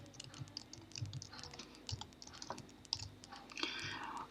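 A file name being typed on a computer keyboard: a quick run of soft, irregular key clicks, close and fairly quiet, with a denser burst of clatter near the end and no talking.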